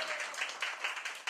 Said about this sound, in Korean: 박수 한 번이 받으셔야 되겠습니다.